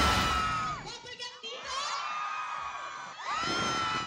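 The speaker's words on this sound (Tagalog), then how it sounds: "Sinalubong ng malakas na hiyawan at tilian ang cast ng upcoming GMA's Prime Series na Never Say Die" A loud crowd at a mall show cheers, screams and shrieks to greet the cast of a TV series, with high-pitched squeals rising and falling in waves over a continuous roar.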